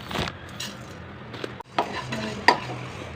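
Coriander seeds stir and crackle as they dry-fry in a pan for curry leaf powder, giving a soft, scratchy sizzle with a few sharp clinks of a spoon against the metal pan.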